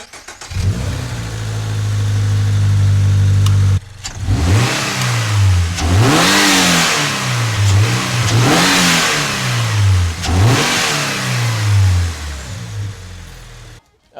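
A Toyota GR86 fitted with a Perrin silicone intake starts and idles loudly, then after a brief cutoff is revved repeatedly in several strong, rising-and-falling blips, close up and dominant, with brief voices in the background.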